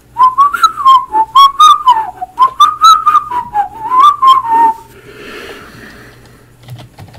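A person whistles a wavering melody up close, loud and clear for about five seconds in quick bursts, then stops, leaving soft breathing and faint clicking keys.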